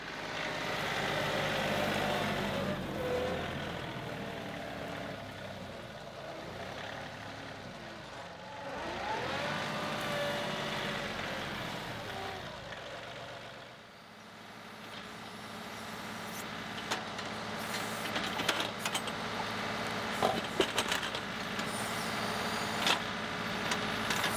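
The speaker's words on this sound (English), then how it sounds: "So I've got the tractor out here with the backhoe on to do a soil sample" A tractor fitted with a backhoe digs a soil sample at a borrow pit, its diesel engine running steadily and loud throughout, with hydraulic whine and scraping of the bucket rising and falling as it works.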